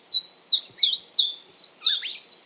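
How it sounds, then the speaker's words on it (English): A chiffchaff sings a clear, repetitive song of six evenly spaced high chirps, each with a slight downward sweep, close and crisp in otherwise quiet spring air. "is the sound of the chiff-chaff, and it's a pretty, really recognisable sound"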